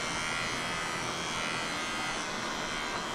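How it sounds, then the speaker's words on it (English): Electric clippers buzz steadily at close range while trimming a mini horse's fur, a continuous even hum with no talking. "To get all the knots out, Becca had to alternate between brushing and clipping, brushing and clipping."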